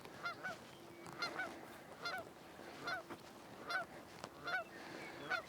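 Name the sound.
geese honking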